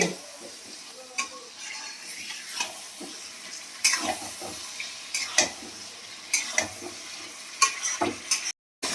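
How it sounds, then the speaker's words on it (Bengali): Chicken being stir-fried with raw onion in a pan, a soft steady sizzle broken by repeated scraping strokes of a spatula against the pan at an uneven rhythm, close and moderately loud. "চিকেনটাকে ভালো করে কষার পরে আমি আবার হালকা করে পেঁয়াজ দিয়েছি, কাঁচা কাঁচা পেঁয়াজ, ভাজিনি কিন্তু, দিয়ে এটাকে ভালো করে আবার কষবো"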